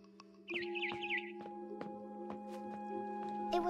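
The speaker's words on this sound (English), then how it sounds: "Then I heard chirping outside my window." Bright, warbling barn swallow chirps and tweets from the video game What Remains of Edith Finch repeat over a steady synthetic hum, with clicks and soft thumps scattered throughout.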